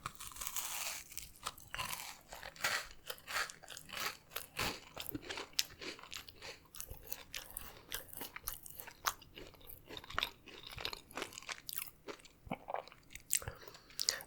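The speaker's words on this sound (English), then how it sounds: "let's try this double chocolate with one nut in it" Someone bites into and chews a double chocolate cookie with nuts, producing close, loud, dry crunches and crackles in an uneven rhythm that carries on throughout with no talking.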